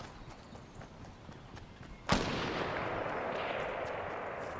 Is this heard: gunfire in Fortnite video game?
yes